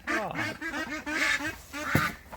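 Several ducks quack in a run of nasal calls near their duck house, steady and fairly close, ending in a louder burst.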